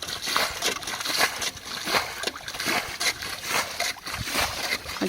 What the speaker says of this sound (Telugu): ఒక ప్లేట్ ఎత్తుకుని అదే మారితో చల్లుకుంటా ఉంటే వెనకాలైతే నీళ్ళైతే చూడండి